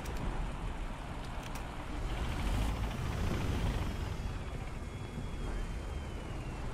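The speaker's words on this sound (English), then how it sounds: "Ooh, enemy helicopter, not good." An enemy AH-64 helicopter in War Thunder, a broad continuous rotor-and-engine roar mixed with vehicle rumble, steady and full, with a faint rising whine across the middle.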